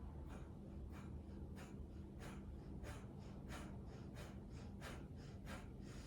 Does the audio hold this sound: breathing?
yes